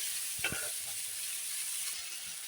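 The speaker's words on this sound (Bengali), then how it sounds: "এখন শাকে ফোড়ন দিয়ে দিলাম কালো জিরে আর এই যে কাঁচা লঙ্কা দিয়ে" Greens with nigella seeds and green chili sizzle softly in a pan after tempering, a quiet steady frying hiss with one brief clink of a utensil near the start.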